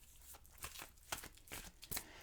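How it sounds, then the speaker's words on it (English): Angel Oracle cards shuffled by hand, a quiet run of soft papery riffles and flicks in an uneven rhythm, close and faint, with no talking. "I'm going to shuffle and deal you an Angel Oracle card."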